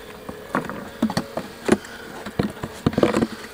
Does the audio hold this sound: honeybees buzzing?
yes